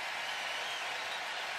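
Brewers fans cheering and applauding at American Family Field during a tense late-season game against the Mets, a dense continuous crowd roar heard from a distance.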